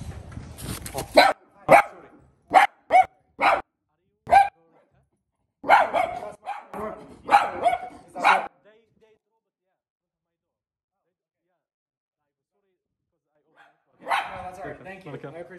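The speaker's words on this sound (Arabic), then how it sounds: "شفتوا سمعتوا صوت الكلب" A dog barks behind an apartment door in a volley of sharp, separated barks and yips. After a long silence a few more barks follow. Voices may be mixed in.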